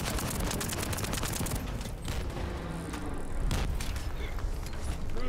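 Rapid, continuous gunfire in the shooter game The First Descendant, dense overlapping shots with mechanical clatter and booms, loud and sustained throughout.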